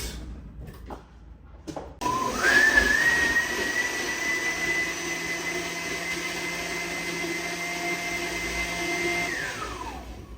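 A blender whirs steadily for about eight seconds while mixing a purple protein shake thinned with water, starting after a few faint knocks and spinning down at the end; it sounds loud and close, with no talking.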